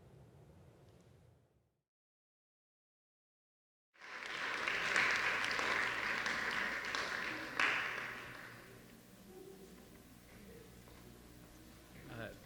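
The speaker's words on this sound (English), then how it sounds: "can we get another round of applause" Applause from an audience after a keynote address swells after a short silence, a dense wash of clapping that gradually thins and fades, with some murmuring underneath.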